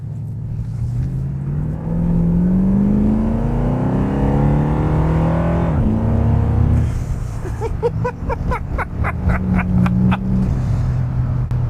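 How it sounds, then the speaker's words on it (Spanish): A 1973 Jensen SP's 7.2 litre, 390 horsepower engine roars as it accelerates, pitch climbing steadily and loudly, then the revs drop and settle into a rough, throbbing idle. "lo único que vamos a hacer es pisar el acelerador y ver cómo se siente"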